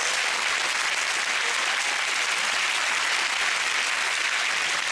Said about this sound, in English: Your round of applause, Sean Wallace, everyone.